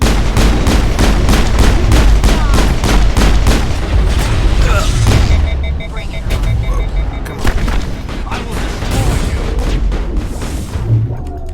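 Rapid gunfire from a Mass Effect firefight, dense bursts of loud shots in a steady rhythm that thins after a few seconds into scattered blasts and booms with weapon hum and effects, close and dominant.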